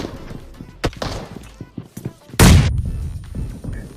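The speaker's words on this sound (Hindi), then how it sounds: "मैं मौके में चौका मार के एक बम फेंकता हूँ" A thrown bomb goes off in a shooting video game with a single loud, sharp blast halfway through. Scattered thuds and gunfire-like pops come before it, and the rumbling tail fades out after.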